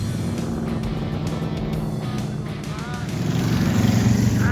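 A big-tired race car laps a dirt track with a steady, loud engine roar and rumble that swells toward the end.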